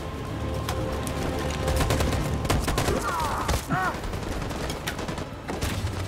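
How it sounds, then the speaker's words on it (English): Machine gun fire in Detroit: Become Human rattles in dense, rapid bursts at close range, mixed with heavier booms and battle chaos, with shouted voices breaking through here and there. "That machine gun is taking down everything"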